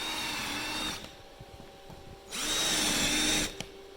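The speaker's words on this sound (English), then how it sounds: "Drill through." A power drill bores shelf pin holes through wood using a Rockler shelf hole jig, two loud sustained whirring runs of about a second each separated by a quieter pause.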